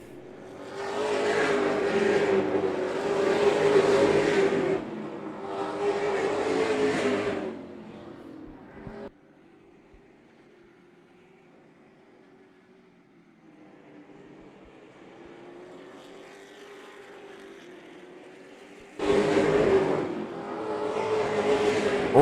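Super Late Model stock cars bunched together in the ReCar 150 roar past in loud, close waves, drop to a faint far-off engine hum across the track, then thunder by again near the end.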